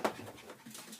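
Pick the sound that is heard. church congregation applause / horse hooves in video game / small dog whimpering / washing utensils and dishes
small dog whimpering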